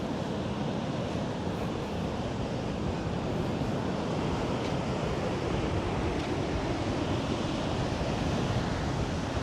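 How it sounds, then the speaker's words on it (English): Steady roar of ocean surf at Topsail Hill Preserve State Park, Florida, with gusting wind buffeting the microphone, continuous and loud throughout, no voices. "Yeah, it's windy."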